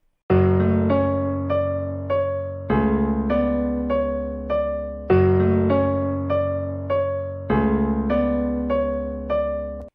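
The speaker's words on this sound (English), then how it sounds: "without effects, the piano sounds like this." A dry, dark piano plays a slow repeating pattern of low chords with a soft melody on top, each note decaying naturally, no voices.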